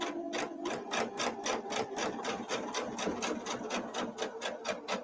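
Sewing machine stitching steadily, a fast regular clatter of needle strokes at close range, continuous and even throughout with no voices.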